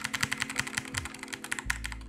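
Typing on a Razer BlackWidow V2 Chroma Tournament Edition mechanical keyboard with Orange switches: rapid, even run of crisp keystroke clicks up close, ending with a low thump.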